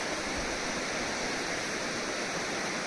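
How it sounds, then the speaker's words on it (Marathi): The Bharda river near Unhavare, Mandangad rushes past in a strong current, producing a loud, steady, unbroken roar of water close by with no voices. "हे पाणी आहे ही भारदा नदी बघा किती प्रचंड प्रवाह आहे"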